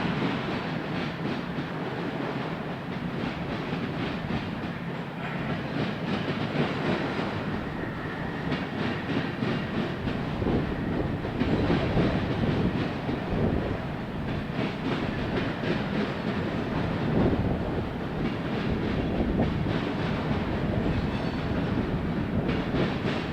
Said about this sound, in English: A much smaller 4-car train of outbounds will return to the IHB's Burnham Yard.